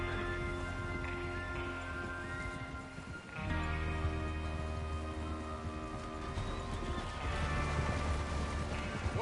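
Horses gallop in the Red Dead Redemption 2 video game, with dense hoofbeats and a continuous rumble under a steady layer of tonal game music that shifts partway through.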